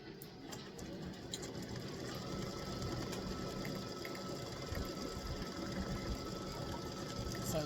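An embroidery machine stitches a text design with underlay, giving a steady fast mechanical whir and rapid needle clatter that runs continuously at low level throughout, with no talking.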